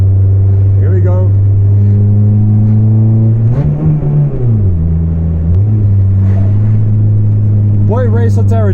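A Volvo 440 with a massive exhaust leak drives along, its loud, steady low drone and rough rumble rising briefly as the engine revs, with a person talking over it throughout.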